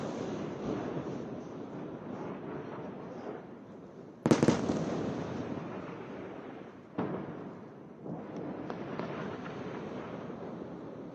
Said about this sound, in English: Just want to show you what an Israeli airstrike can do in Gaza, what it does to the buildings,